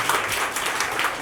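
A crowd gathered for a Hindi poetry recital keeps clapping, a brief, moderately loud patter of many hands with loose rhythmic surges rising and falling over a second or so.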